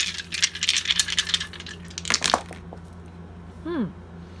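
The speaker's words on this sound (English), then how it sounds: "throw some dice here" Dice are tossed onto a table during a tarot and dice reading, giving a short burst of rattling clatter that tumbles and settles, with a speaking voice around the throw.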